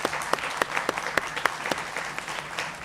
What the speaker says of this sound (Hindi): इस देश की मातृशक्ति के लिए जोरदार तालियां भाई